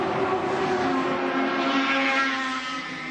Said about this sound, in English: And Katayama gives it about 1 million revs and goes over the speed bumps on the straight